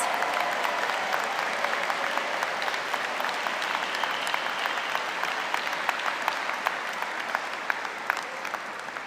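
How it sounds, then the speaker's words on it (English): Sustained applause from a large graduation audience of family and friends at a law school ceremony, a dense steady wash of many hands clapping, loud and continuous throughout with no speech over it. "give them a round of applause"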